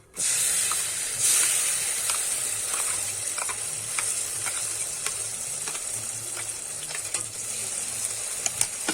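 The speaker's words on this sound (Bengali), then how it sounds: "গাজরের পেস্ট আমি কড়াইতে দিয়ে দেবো" Steady, loud sizzling of carrot paste frying in a wok, with occasional scraping clicks from stirring throughout.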